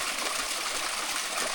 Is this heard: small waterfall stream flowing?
yes